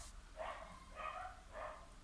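Dogs barking somewhere in the distance, three muffled barks spaced evenly over about two seconds, faint against a low background.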